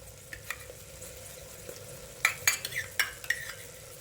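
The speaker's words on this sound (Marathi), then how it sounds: "आपण त्याला छानपैकी हलवून घेऊया" Mashed chapati kuskara is stirred in a clay pot, a soft low cooking hiss broken by a cluster of scraping, clinking spoon strokes in the latter half, close and fairly quiet with no talk.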